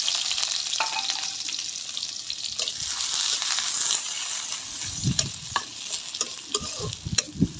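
Onions, green chili, cinnamon and cardamom fry in hot oil with a steady, close sizzle, and spatula stirs and scrapes grow more frequent toward the end. No one talks.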